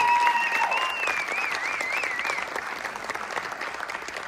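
Applause fills a high school gym during a Board of Education meeting, a steady, dense crowd clapping that tapers gradually, with a faint whistle-like tone early on.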